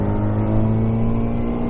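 A 1960 Austin Healey MK1 Sprite engine hums steadily and loudly from inside the car while driving, with a constant low drone and faint wind noise and no talk.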